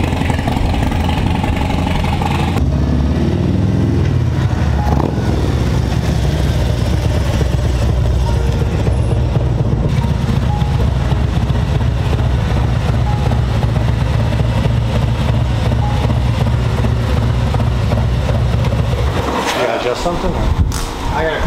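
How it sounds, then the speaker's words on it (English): A Harley-Davidson M8 motorcycle fitted with a Screaming Eagle torque cam, stage 2, rumbles at idle and then pulls away with a deep, steady engine note. Someone talks over it. "just hearing that bike roll away from behind"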